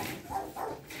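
A dog whimpers and barks in two short, whiny cries close together, moderately quiet against a light background hum.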